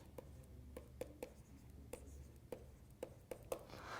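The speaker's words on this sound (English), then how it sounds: "Just going to write a negative impact." A pen writes on paper in a quiet room while revision notes for a geography exam are jotted down: soft scratching strokes broken by light, irregular taps, close and faint.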